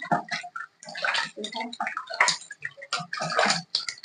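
Water sloshing and splashing in a vessel as cut yam is rinsed and stirred by hand to remove its sliminess, with busy, continuous wet swishing close by.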